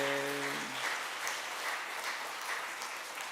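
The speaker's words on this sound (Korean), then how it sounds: "예수님의 제자로 멋지게 커가라고 축복의 박수 한번 내주세요" A church congregation applauds for the children at a Christmas Day service, a steady wash of many hands clapping that holds evenly throughout without voices.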